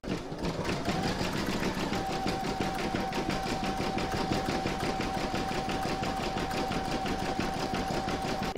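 An embroidery sewing machine stitches a placemat section held in the hoop, a rapid steady mechanical whir with a constant pitched hum, close and unbroken for the whole stretch.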